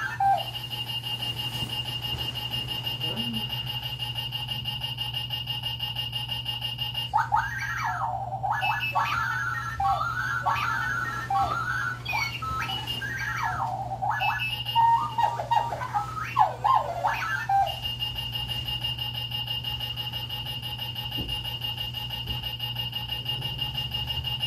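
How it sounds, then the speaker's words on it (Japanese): A shrill electronic alarm clock rings continuously, warbling and squealing loudly in the middle before settling back to a steady high-pitched tone. "けたたましく鳴り響くアラーム時計の音"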